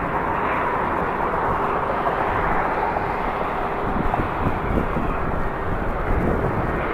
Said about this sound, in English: Very long aircraft.